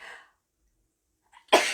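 A single sharp sneeze bursts out near the end, loud and close, after a short stretch of voice at the start and a near-silent pause.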